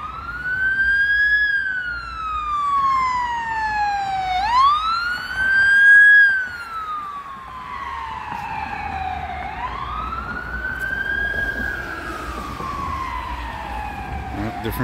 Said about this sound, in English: Oh no, it's a cop. It's with an kind of unusual siren actually.